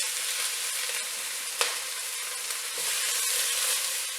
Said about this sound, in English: As soon as I get the flavor of my whole spices, I add my onions.